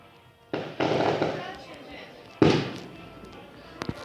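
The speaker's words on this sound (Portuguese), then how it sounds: "Ô, rojão chato" Two loud booming New Year's firework blasts outside, each rumbling and fading over a second or so, followed by faint crackling pops.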